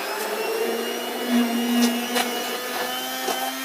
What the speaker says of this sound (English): I'm using the stick blender because it was handy.